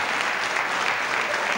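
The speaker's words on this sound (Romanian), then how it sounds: "Opriți banda cu aplauze" Canned applause running from tape on a Romanian TV talk show, a thick uniform roar of clapping hands that carries on steadily at moderate loudness without talk.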